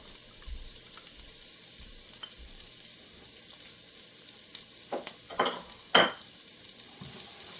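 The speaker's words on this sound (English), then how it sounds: "While that's going, I'll throw my garlic in." Garlic frying in a pan makes a soft, steady sizzle that stays fairly quiet, with a few louder scrapes and clinks near the end as it is moved around, and no one speaking.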